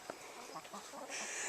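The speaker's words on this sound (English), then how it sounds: "I like my Rhode Island Reds." Rhode Island Red chickens cluck softly nearby, a short run of quick, low clucks followed by a hissing rise of background noise.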